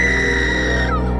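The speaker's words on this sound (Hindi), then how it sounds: "तभी ऊपर से एक औरत की चीख गूंजी।" A woman's scream rings out from an upper floor of a haunted old mansion: a single sustained, piercing high cry that holds steady and then slides downward and fades near the end.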